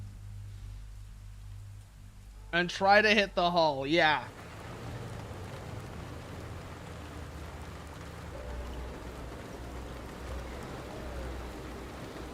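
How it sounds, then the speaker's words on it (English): Rain patters in a tank video game as a soft, steady hiss that sits under a low engine rumble. Someone speaks briefly early on, and the rain carries on alone afterward. "Oh, and now it's raining."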